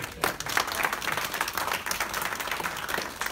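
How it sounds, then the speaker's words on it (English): An audience applauds after a Q&A talk, a sustained burst of many hands clapping close by, filling the room without pause. "Round of applause, please."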